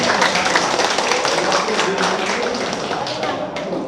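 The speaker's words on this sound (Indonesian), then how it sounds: "Tepuk tangan Cipertani." Crowd of villagers in Cipertani clapping at a village head election event, loud and continuous with sharp individual claps standing out and voices mixed underneath.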